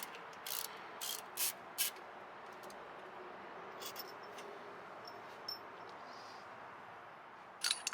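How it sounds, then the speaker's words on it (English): A ratchet loosens the 10mm brake caliper bolts on a Mercury Grand Marquis: a few short bursts of quick clicking near the start, then faint scattered clicks over low background hiss. "Remove two 10mm caliper bolts."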